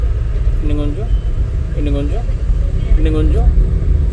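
A car's engine rumbles low and steady as it is lightly accelerated during a driving-school lesson, with an instructor talking over the hum throughout.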